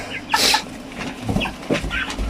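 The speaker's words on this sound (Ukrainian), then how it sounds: "Отак от корму зараз луплять" Broiler chickens about 39 days old crowd a feeder, clucking and pecking at feed in close, busy bursts, with a loud squawk near the start and scattered clucks and pecks after it.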